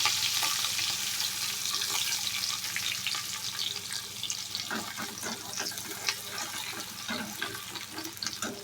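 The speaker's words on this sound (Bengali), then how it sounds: "মাছ ভাজার তেলে আমি পেঁয়াজ, একটা ছোট সাইজের পেঁয়াজ আমি কুচি করে দিয়ে দিলাম" A small chopped onion fries in oil left over from frying bhola fish, with a constant close sizzle and, partway through, scraping stirring sounds and light clatter over the hiss.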